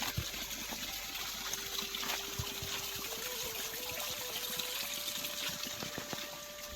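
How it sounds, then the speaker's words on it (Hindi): A small waterfall on the Narmada river route flows in a constant rushing wash, close and steady, with no voices over it. "यहाँ पर छोटा सा एक झरना है"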